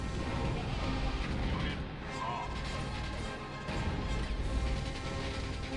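A tank in Earth 2150 is destroyed amid heavy, continuous battle noise of crashing impacts and artillery-like blasts, loud and dense for the whole stretch.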